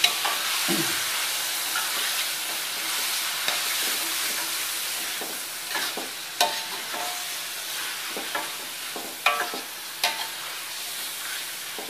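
Bamboo shoots stir-fried in a pan give a continuous sizzling hiss, broken by a few sharp scrapes and clanks of stirring close by.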